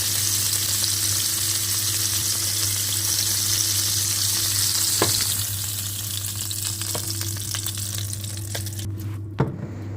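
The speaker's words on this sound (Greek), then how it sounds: "να τηγανίσεις τις γαρίδες σου βάζοντας τη μισή ποσότητα ελαιόλαδο και 1 κομμάτι ζωικό βούτυρο" Shrimps fry in olive oil and butter in a pan, a steady loud sizzle that softens midway, with a few sharp clinks and a knock near the end, close and without talk.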